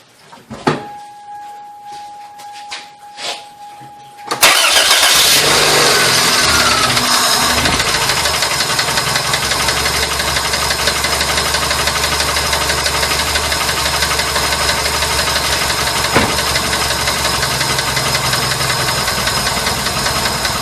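A Toyota Corolla engine, suspected of hydrolocking, cranks briefly and catches, then runs loud and rough at a steady uneven idle with some knocking, close up and without talk.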